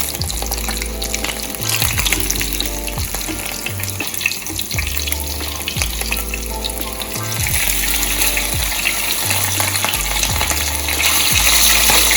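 Escovitch fish fries in a pan of oil, a steady loud sizzle and crackle running throughout with occasional stirring and liquid sounds, no talking.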